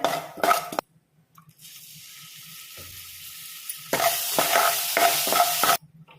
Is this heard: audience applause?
no